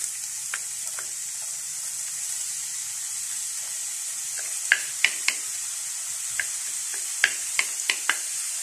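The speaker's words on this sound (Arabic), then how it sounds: "كنزيد عليها الزيت، وكنزيد عليها البصلة، كنضيف عليها هاد البصلة ونخليها تشحى" Onion frying in oil in a pan, a steady close sizzle and hiss with scattered sharp pops and crackles growing more frequent toward the end.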